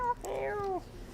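A person imitates a cat with a single drawn-out meow, rising and then falling, on a live TV programme.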